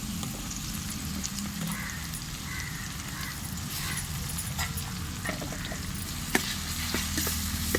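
Tomato frying in a pan with oil for a Tamil egg gravy, a steady close sizzle with soft crackles running throughout and a few sharper pops near the end.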